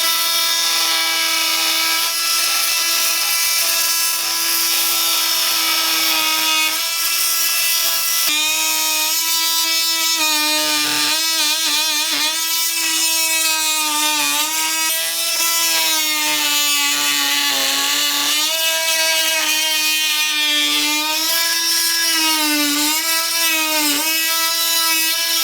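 A Milwaukee M12 Fuel oscillating multi-tool makes a steady, high buzzing whine while cutting, its pitch wavering and dipping briefly as the blade bites, running continuously and close without speech.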